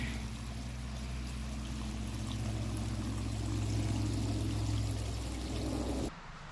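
Spring water piped down a black tube from a spring box pours out steadily at the outlet, a loud continuous splashing gush that runs evenly before cutting off abruptly near the end.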